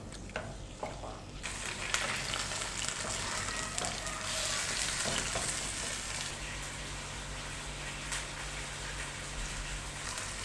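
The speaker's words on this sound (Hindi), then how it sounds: "चिकन को हमने ऑयल में ब्राउन कर लेना है, लाइट ब्राउन करना है" Chicken browning in oil over a medium flame, a soft, even sizzle and crackle that starts up after a brief quieter moment and then holds steady and fairly faint, with no talking.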